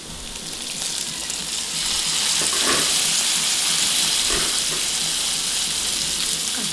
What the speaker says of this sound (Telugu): దాంట్లోనే మనం కాకరకాయ ముక్కలు వేసుకోవాలి